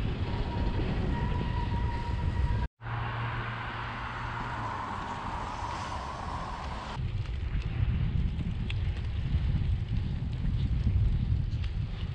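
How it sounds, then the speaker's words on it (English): Two freight trains rumble past overhead on an elevated line near downtown Memphis, a loud, steady wash of rolling rail noise with a brief break between them, heard from below. "you treated to 2 trains going above me. 2 freight trains for the price of 1."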